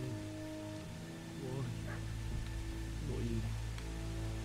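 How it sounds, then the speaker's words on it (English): Dog barking in the medieval open world of Kingdom Come: Deliverance, a few short yips rising over a steady game ambience with a low hum, faint and somewhat distant. "I hear the dog barking."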